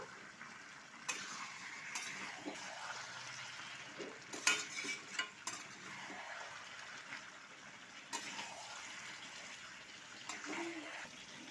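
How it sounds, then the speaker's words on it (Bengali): Spice paste for a fish-head and pumpkin curry sautéed and stirred over medium heat, giving a steady soft sizzle with scraping spoon strokes and occasional clinks throughout. "এবারে আঁচটা মিডিয়াম করে খুব ভালো করে কষিয়ে নেবো"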